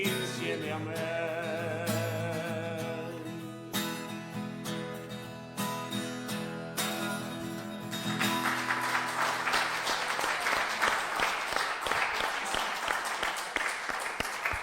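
An audience at a parish carnival children's festival bursts into loud, sustained clapping as a song fades out, the applause filling the second half as dense, continuous crackle.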